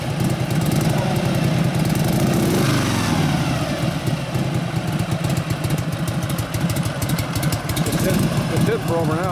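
A 1965 Harley-Davidson Panhead 74ci FLH with a repaired Linkert carburetor idles cold, a loud, lumpy, uneven thump close by, with voices talking over it.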